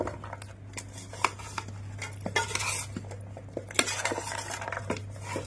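Papri chaat mixture being stirred in a bowl, close metallic clinks and scrapes of a spoon against the dish, irregular and fairly quiet over a faint low hum.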